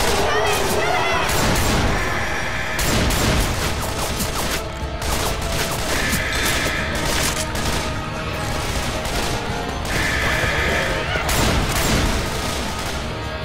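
Rapid gunfire rattles through a Left 4 Dead 2 survival map, with loud bursts of shots, booms and crashing impacts recurring in waves across the whole stretch while game voices shout over the action.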